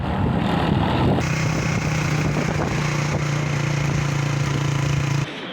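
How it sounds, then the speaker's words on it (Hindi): A motorcycle ridden along a mountain road in Kashmir gives off a loud, steady engine drone close by, holding an even pitch before cutting off abruptly near the end. "ये जा रहा है उस्मान बाइक पे।"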